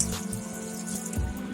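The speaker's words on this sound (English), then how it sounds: "Now we are pouring some cold water" Cold water runs steadily over drained pasta in a colander, a close, constant splashing wash with no talking.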